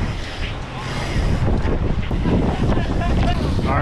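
Strong wind roars across the microphone as a bicycle is ridden along the Southern California coast toward Huntington Beach, a loud, steady buffeting that grows heavier partway through.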